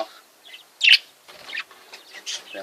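Chicks and small birds in an aviary give one sharp, loud chirp near the start, then softer scattered tweets and calls. Faint voices may be murmuring in the background.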